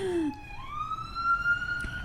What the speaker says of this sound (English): I can hear the sirens going off